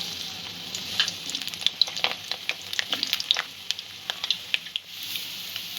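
Potatoes fry in mustard oil over a medium gas flame, giving a steady close sizzle with scattered pops and crackles and occasional stirring scrapes.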